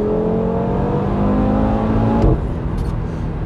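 A 500-horsepower Audi RS performance car with a stage 1 tune revs its engine, a loud, steady droning roar that climbs in pitch and then drops sharply, heard on its own.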